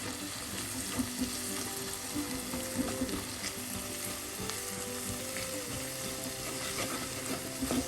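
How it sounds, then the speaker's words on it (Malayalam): Chilli powder and half a teaspoon of turmeric stirred into hot oil for a seabass curry, a continuous soft sizzle with light, regular stirring scrapes, fairly quiet and steady, no voices. "അര ടീസ്പൂൺ മഞ്ഞൾപ്പൊടി എല്ലാം കൂടെ ചേർത്ത് നന്നായി ഒന്ന് ഈ എണ്ണയിൽ മിക്സ് ചെയ്യുക"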